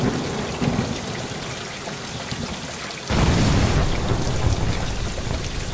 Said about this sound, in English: The lightning struck my backyard.